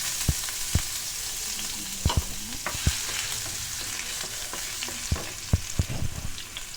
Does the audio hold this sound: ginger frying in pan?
yes